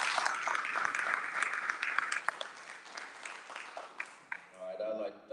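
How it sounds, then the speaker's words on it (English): Applause from an audience at a county candidates forum, fairly quiet and fading, with a voice speaking over the end. "So please give him a round of applause."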